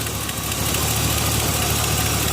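A truck fitted with a swapped 350 V8 engine with a new Edelbrock setup idles steadily and loudly nearby, a deep continuous rumble with a slight exhaust leak, no voices.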